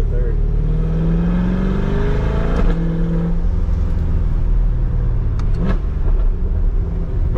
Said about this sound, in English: Give you a little bit of gas on to third.